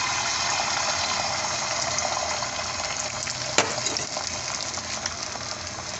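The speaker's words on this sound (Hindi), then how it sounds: "ऑमलेट, तो इसको हम तवे पर डालते हैं" Egg omelette mixture frying on a hot tawa griddle, a loud, continuous hissing sizzle close up with one brief sharp click partway through and no talking.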